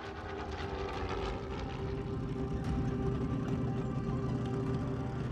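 A steady droning World War II-era military airplane engine hums continuously at moderate distance, a low throbbing roar that holds level throughout.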